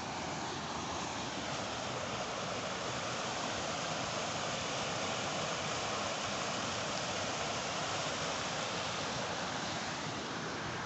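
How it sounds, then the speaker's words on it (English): A river rushing near the Pontypool train tunnel, a constant, dense wash of flowing water that stays loud and even throughout, with no voices. "The sound of the river is so relaxing."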